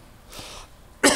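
Two coughs from clearing the voice, not from illness: a softer breathy one followed by a sharper, louder one, close to the listener.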